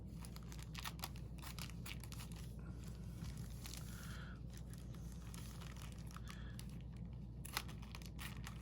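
Scissors cutting into the sealed plastic wrap of a 1967 Silver Age comic book mystery pack, faint close crinkling and snipping in scattered bursts over a low steady background hum.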